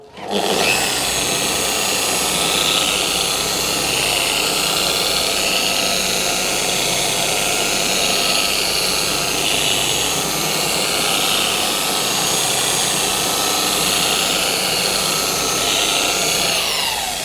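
A machine polisher running at speed 1 with a pad working compound into a car panel, a steady loud whine and hum held throughout.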